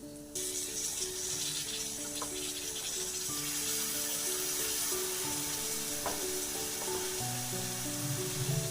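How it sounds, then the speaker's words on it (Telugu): Prawns sizzle and fry steadily in a hot pan seasoned with turmeric, salt and chili powder, a continuous close crackling hiss with occasional stirring clinks and no talk. "ఇప్పుడు రొయ్యలు వేసి వేయించాలి."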